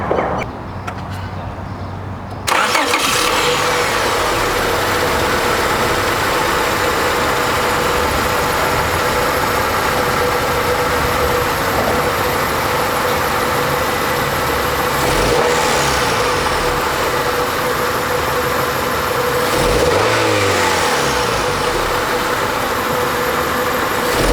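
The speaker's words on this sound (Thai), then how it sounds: "มาฟังเสียงเครื่องยนต์กัน" A Honda Accord's 2.3-litre engine idles steadily and close, a continuous mechanical hum with faint ticking that stays even throughout, briefly swelling once or twice.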